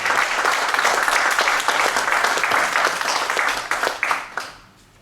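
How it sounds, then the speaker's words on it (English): A conference crowd at AgoraCon 2019 breaks into loud, dense applause as a speaker is welcomed onto the stage, the clapping holding strong before thinning into scattered final claps. "a huge round of applause for him"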